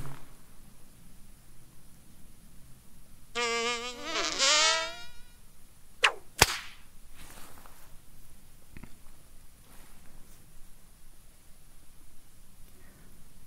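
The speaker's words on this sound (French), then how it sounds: "Un moustique." A single mosquito whines past at close range, a brief rising and falling buzz of about a second and a half, followed by a couple of faint clicks in an otherwise quiet room.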